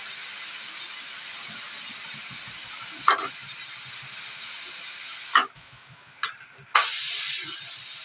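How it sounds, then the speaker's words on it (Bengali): A pressure cooker of boiling dal vents steam in a loud, steady, close hiss lasting several seconds, broken by a few sharp spurts and a short drop before the hiss surges again, with no voices. "তো এখন কুকারটা থেকে আমি একটু হাওয়া সরিয়ে নেব।"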